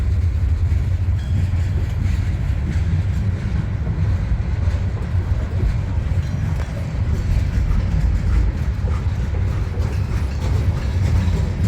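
Heavy rumbling and rhythmic clatter of a long manifest freight train rolling past continuously, loud and close with deep low-frequency roar throughout.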